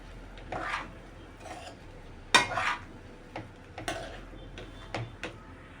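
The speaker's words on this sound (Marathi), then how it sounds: "त्यामध्ये आपल्याला आता ही कांद्याची पात आणि कोथिंबीर घेतली आहे ती पण टाकूया मिक्स करून घेऊ व्यवस्थित" Spoon stirring Maggi masala rice with spring onion greens and coriander in a pan, giving soft scraping strokes and light metallic taps at an uneven pace, close and fairly quiet.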